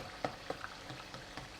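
Glutinous rice cake (nian gao) frying in hot oil, a soft steady sizzle with a few sharp pops and spits scattered through, faint and close, no speech.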